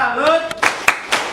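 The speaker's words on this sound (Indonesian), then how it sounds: "Kita kasih tepuk salut lagi untuk Ina." High school students in a classroom do a patterned salute clap, a few separate sharp claps spaced apart, following a spoken voice at the start.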